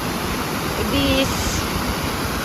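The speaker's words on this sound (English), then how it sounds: "waterfall kind of, it's a little bit too loud for me." Roaring waterfall in a park along the Appalachian Trail near Amicalola Falls, a loud, steady broadband rush of falling water that fills the whole clip without pause.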